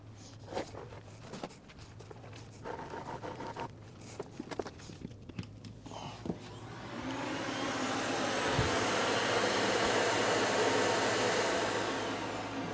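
A Miele Classic C1 Cat & Dog canister vacuum cleaner switches on after a few seconds of quiet handling and footsteps, then runs with a loud, steady broadband whoosh that holds to the end.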